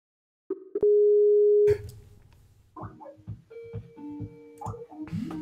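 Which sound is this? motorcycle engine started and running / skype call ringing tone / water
skype call ringing tone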